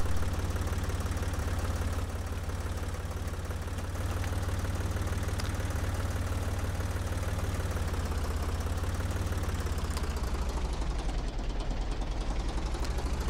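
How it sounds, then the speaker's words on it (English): A farm tractor engine drones steadily and loudly up close while working under load during planting, with a low rumble and knocking pulse, its pitch dipping briefly as it strains. "It does sound like the tractor's working a little more now"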